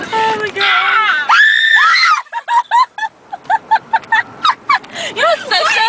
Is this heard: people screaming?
yes